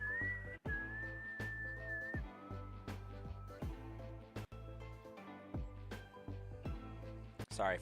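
Someone whistles a sustained tune up close, a steady high pitch that bends and repeats, over a low background hum.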